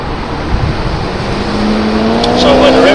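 A 1997 Mercedes SL 70 AMG cruising at 80 km/h around 1400 RPM gives a steady low engine drone with road and wind noise, the pitch creeping slightly upward, and a voice talking faintly over it.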